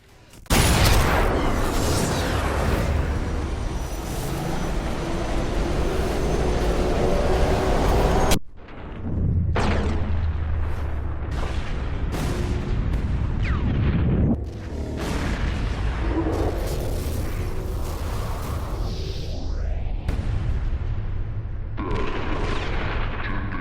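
A rocket blows up in the World War II sniper game Sniper Elite V2, giving a loud, sustained roar of explosion and gunfire-like rumble that cuts out briefly, then rolls on with rumbling blasts and debris.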